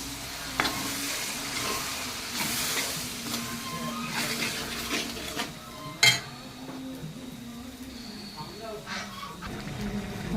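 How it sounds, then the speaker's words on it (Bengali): Peas go into fried spices in a pan and get stirred, a steady sizzle broken by spoon scrapes and clanks against the pan, with a voice talking at times. "সব মটরগুলো দিয়ে দিলাম।"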